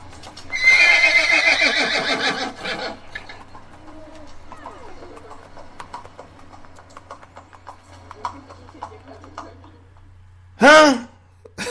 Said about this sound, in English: A damn horse.